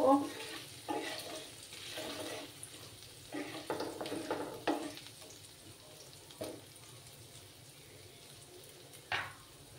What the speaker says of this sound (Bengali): একটু সময় আদার কাঁচা গন্ধটা না যাওয়া অবধি আমি একটু ফ্রাই করে নেব।